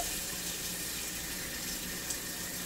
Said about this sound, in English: we're going to be adding some water to our pot here.